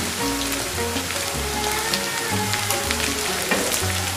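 Mutton pieces fry in a pan with crushed spices and green chillies, a steady close sizzle and crackle running throughout, with sustained tonal sounds beneath it.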